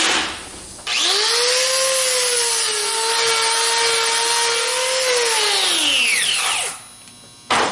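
An angle grinder cleans up a cut metal base plate for twin M90 superchargers on a small block Chevy, spinning up sharply and holding a loud, steady high whine for about five seconds before winding down.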